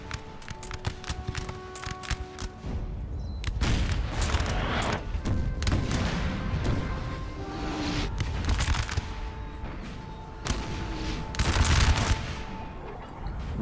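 Musket volleys and cannon fire in the Napoleon Total War video game sound as a continuous battle din, with dense crackling fusillades and booming shots layered over one another throughout.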